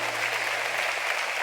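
A church congregation claps steadily and loudly, a dense wash of applause with no break.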